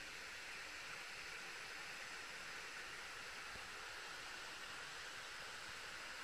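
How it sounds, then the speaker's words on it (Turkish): A cold, clear mountain stream runs through forest in the Salıpazarı mountains of Samsun, its water pouring in a steady, continuous broadband rush that holds even throughout with no voices. "Bir dere."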